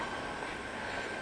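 A metro train at a station produces a steady, dense rumble and rolling rail noise with a faint whining tone, continuous and moderately distant, with no talking.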